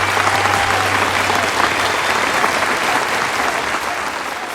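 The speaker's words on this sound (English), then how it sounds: "Let's give them a round of applause." Steady, loud applause from an audience at a fantasy football league award show, a dense wash of clapping that carries on evenly and tapers slightly toward the end, with no talk over it.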